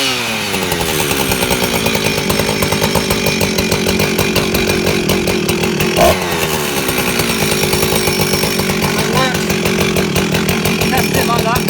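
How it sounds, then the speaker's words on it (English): Husqvarna 357xp chainsaw fitted with a new exhaust, running loud and close with a harsh buzzing rasp and shifting rev pitch, steady throughout with a brief blip midway. "That's the sound of the new exhaust."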